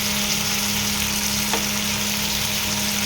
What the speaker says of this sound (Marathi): कांदा आणि शिमला मिरची जवळजवळ एकसाथ एका पाठोपाठच घालायची, कारण शिमला मिरचीला पण फ्राय व्हायला टाईम लागतो.